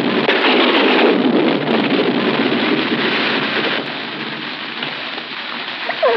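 Steady heavy rain pours down outdoors in a dense, loud hiss that continues without a break, easing slightly toward the end, with no voices over it.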